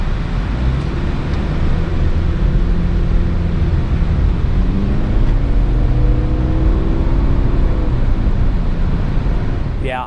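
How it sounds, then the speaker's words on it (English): Steady road and wind noise inside a 2021 Subaru compact SUV on the move, a loud, constant low rumble and droning whoosh with a faint rising whine partway through. "I found it road noise, wind noise."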